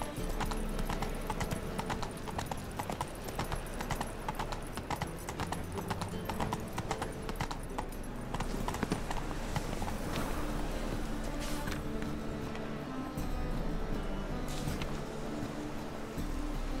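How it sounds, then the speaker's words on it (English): Horse hooves clip-clop in a steady walking rhythm in The Witcher 3 video game, a close, continuous patter over game ambience and music. "Whoa there, Roach"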